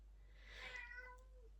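A chubby red male cat meows once in the background, a soft, drawn-out call that rises and trails off, faint and alone over low room hum.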